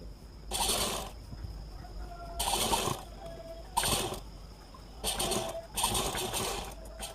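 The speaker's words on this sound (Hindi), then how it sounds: "इस पर हम सिलाई चलाएंगे" A sewing machine stitches the joined top and bottom of a baby girl's top in five short bursts, each about half a second long, with quiet pauses between them.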